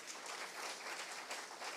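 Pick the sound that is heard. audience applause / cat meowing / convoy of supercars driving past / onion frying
audience applause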